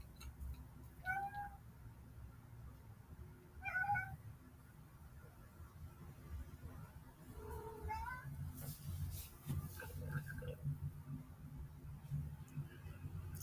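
A house cat meows several times in short bright calls, spaced apart, over a low steady room hum and faint background noise.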